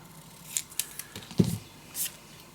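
Scissors snip through craft paper for a Stamperia Magic Forest mini album, a handful of crisp, close cuts spaced irregularly in a quiet room with no talking.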